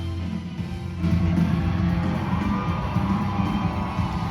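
Theater audience at a Jujutsu Kaisen screening cheering and whooping, a crowd roar that swells after a second and stays loud and sustained, with scattered shouts on top.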